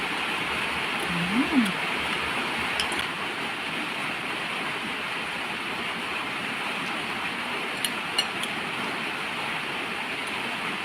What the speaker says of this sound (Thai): ต้องแจ้งบรรยากาศฝนตกนะคะ